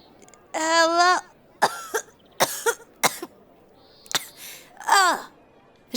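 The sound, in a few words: voice imitating a coughing fit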